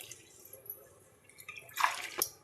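Hot water splashes into a pot of mutton biryani in a short burst near the end, brief pouring and drips rising above a quiet kitchen background, with no talk.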